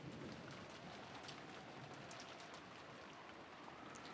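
A steady, dense rain sound effect from the visual novel Umineko, a continuous loud wash of falling rain with faint scattered droplet ticks and no voices.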